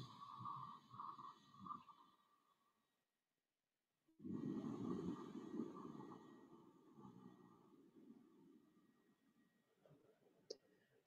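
Ujjayi breathing through the nose with the mouth closed, a soft whispery throat breath like fogging glasses, heard as two long breathy passes close to the mic, the second fuller and rougher after a short silence.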